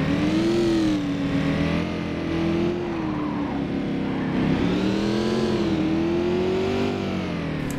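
A Holden HSV Maloo engine in City Car Driving drones and revs continuously, its pitch rising and falling with the throttle, with tires skidding through the slide.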